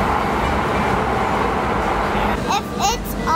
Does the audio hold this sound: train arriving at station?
yes